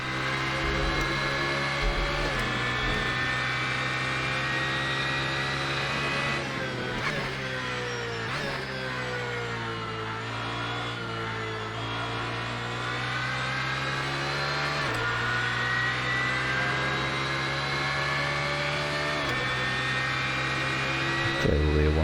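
GT3 race car engine in the Assetto Corsa racing game at Mugello, held at full throttle with a loud, steady high-revving drone and harmonic bands rising and dropping through gear changes, with talk running over it throughout.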